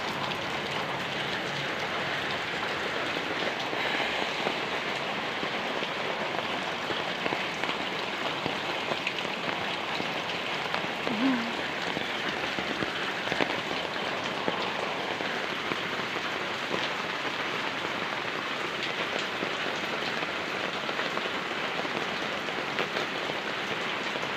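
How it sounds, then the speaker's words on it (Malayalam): Heavy rain pours steadily, a dense unbroken hiss of drops on surfaces, with no voices. "ഇതാണ് മഴ പെയ്ത നാല് പുറം പെരും വെള്ളം"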